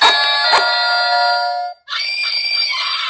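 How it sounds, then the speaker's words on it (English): An electronic doorbell chimes loudly with a spooky tonal jingle, pauses briefly, then plays a second eerie tone sequence. "I've got a Halloween doorbell. Does it work? Let's see."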